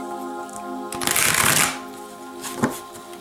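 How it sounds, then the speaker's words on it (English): A deck of tarot cards is riffle-shuffled in one loud, crisp burst of fluttering card edges, followed by a brief quieter shuffle and a final tap, close up in a quiet room. "I just felt I need to shuffle that one more time."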